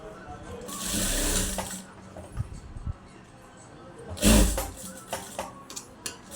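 A sewing machine stitches a blouse in two bursts, a longer run early and a short sharp one later, with faint handling clicks between and a quiet voice in the background.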